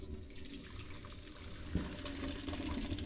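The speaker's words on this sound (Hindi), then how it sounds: "अब हम इनका पानी ड्रेन करेंगे।" Water drained off boiled rice, a steady broad rush and splash that runs for about three seconds at low level, with no talking.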